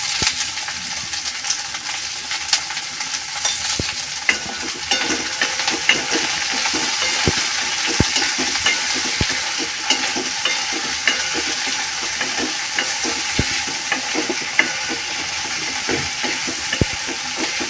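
Cauliflower and potato pieces sizzle steadily in a pan for vegetable pulao while a spoon stirs them continuously, scraping and clinking in frequent irregular knocks over the close, even frying hiss.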